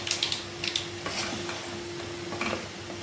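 Two or three dried red chillies fry in hot oil in a pan, giving a steady close sizzle with light crackles and a few soft scrapes of stirring.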